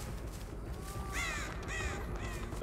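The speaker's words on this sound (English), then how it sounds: "goddamn crows" Crows caw in a video game, two or three harsh, close calls in quick succession over a steady ambient background hum.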